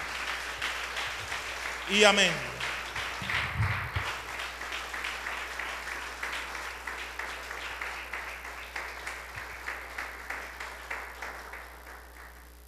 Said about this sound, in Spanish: en Cristo Jesús te damos muchísimas gracias y un fuerte aplauso